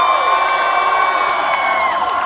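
A crowd at a punk concert on Huntington State Beach cheers and whoops loudly and continuously, with high shouts and whistles rising above a dense roar.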